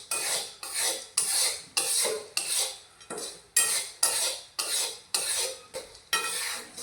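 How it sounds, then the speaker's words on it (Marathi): Chickpeas roasting in a pan of hot sand are stirred steadily, making about a dozen loud, rhythmic gritty scraping strokes in close succession, with no voices. "गरम रेती चण्यावरती ढकलत जायचं."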